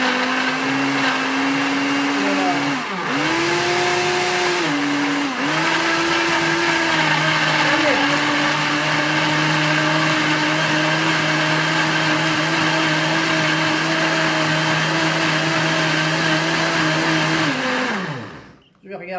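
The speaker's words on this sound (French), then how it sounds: "Et je vais mixer." Electric blender whirring steadily as it purées cucumber, radish and fromage blanc into soup, loud and close, with the motor pitch dipping a few times under load before spinning down and stopping at the end.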